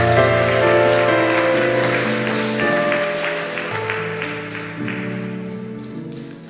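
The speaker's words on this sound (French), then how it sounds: "Je vais demander pour applaudir ça" A church congregation at a Creole Sunday service applauds under sustained organ or keyboard chords, the clapping a soft, dense patter that gradually fades over several seconds.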